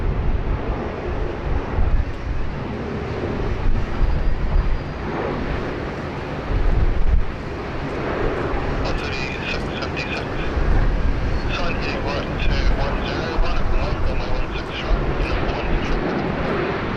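A fixed-wing airliner roars overhead near Sydney's Anzac Bridge by Sydney Airport, a broad, steady engine rumble mixed with gusty wind buffeting the microphone, while someone talks over it.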